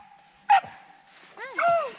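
Hunting dogs on a wild hog hunt give a sharp yelp, then a drawn-out, rising whining cry a moment later, both close and loud over quiet outdoor background, with a voice nearby.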